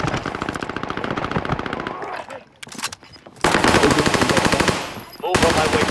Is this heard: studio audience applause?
no